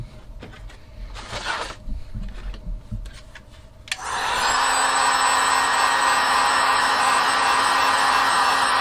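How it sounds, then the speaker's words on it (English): A heat gun switches on partway through with a click and then blows a steady, loud whooshing hiss, heating material for bending. Quieter handling and rubbing noises come before it. "So we'll heat with a heat gun and we'll bend at that angle right there."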